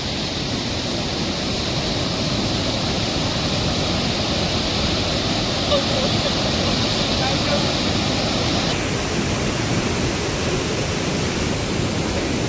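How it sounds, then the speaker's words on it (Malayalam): A flooded stream in Kerala overflows its banks during heavy rain, its rushing water making a loud, steady, unbroken roar from start to finish. "ഈ തോട്ടമൊക്കെ കവിഞ്ഞ് ഒഴുകി വെള്ളം വരുന്നത്."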